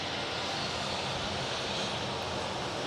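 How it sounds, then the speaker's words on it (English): Southwest Airlines jet departing from Dallas Love Field, a steady broadband engine roar that fills the whole clip at constant loudness with no voices. "Oh, we get a departure first, though, from Southwest Airlines."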